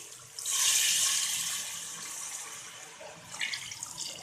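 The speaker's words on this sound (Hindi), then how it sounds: "अब मैं इसमें पानी डाल दूंगी।" Water is poured into a pot of beef haleem with spices, giving a close, bright splashing gush that swells quickly, then tapers into lighter sloshing and a few final splashes.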